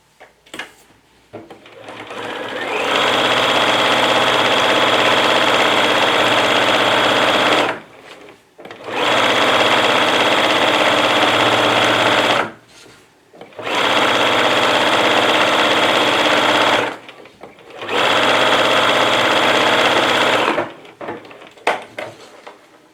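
A sewing machine stitches pants in four long, steady whirring runs separated by short pauses, loud and close with no talking.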